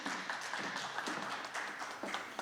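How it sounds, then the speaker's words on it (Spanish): Audience applause at a live Andean music show, a steady patter of many hands clapping, moderately loud and continuous for a couple of seconds. "Vamos a recibirles con fuertes votos de aplauso,"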